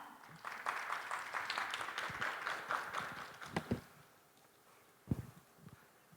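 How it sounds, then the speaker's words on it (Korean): An audience at a Korean government innovation fair presentation applauds steadily for several seconds, the clapping fading out, followed by a few scattered footsteps or bumps. "여러분 큰 박수 부탁드립니다"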